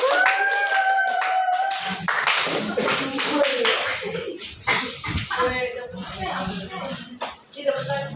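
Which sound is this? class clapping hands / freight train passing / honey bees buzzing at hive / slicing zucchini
class clapping hands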